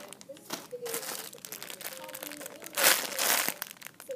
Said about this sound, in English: Sorry for the crinkle noise.